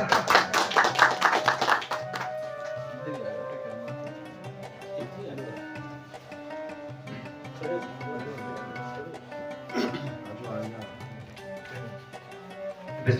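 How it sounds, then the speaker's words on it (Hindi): An audience claps for poet Zubair Jatt at a mushaira gathering in Dammam, with a loud burst of applause for about two seconds that gives way to scattered claps and a murmuring background. "तो आपकी भरपूर तालियों में जनाब ज़ुबैर जट साहब।"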